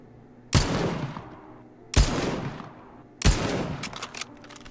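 A boss in Escape from Duckov fires his rifle, three loud separate gunshots about a second and a half apart, each with a long rolling echo, and the last followed by a few quick sharp clicks.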